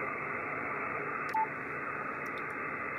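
Band-limited hiss from a Yaesu FTdx5000MP transceiver receiver with the VRF preselector engaged, a steady, even noise floor with a brief faint beep partway through. Moderately quiet and continuous, with no talking.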